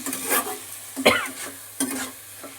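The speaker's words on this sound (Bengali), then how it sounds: "এবার এটা দিয়ে আবার একটুখানি নাড়াচাড়া করে নিচ্ছি" Onion, ginger and garlic paste being stirred in a pan, with a few scraping strokes over a soft steady sizzle.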